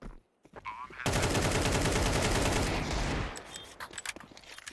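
A long, continuous spray of automatic gunfire during a Counter-Strike match in the ESEA league, loud and dense for about two seconds before cutting off. Quieter game sounds come before and after it.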